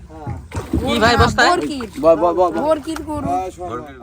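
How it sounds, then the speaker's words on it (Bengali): A boat moves through water on the rivers around the Padma and Jamuna sandbar islands, with close splashing and sloshing almost constantly under loud, continuous talking. "আমরা একটি নৌকা নিয়ে সামনের দিকে যাচ্ছি"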